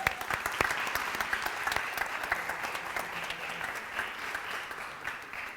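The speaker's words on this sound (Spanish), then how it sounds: "vamos a darle un aplauso de bienvenida a Lina y a Laura que acompañan a Vanessa" Welcoming applause from a church congregation for two guests at a morning service, a steady, even wash of many hands clapping, moderately distant and sustained throughout without talk over it.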